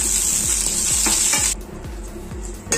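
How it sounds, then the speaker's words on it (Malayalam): Shallots and curry leaves sizzle steadily in hot oil for a village-style beef curry, a loud continuous frying hiss with repeated stirring scrapes of a spoon against the pan, alone without talk. "ചുവന്നുള്ളി ചേർത്ത് നല്ല രീതിയിൽ പൂപ്പിച്ച് കൊടുക്കണം"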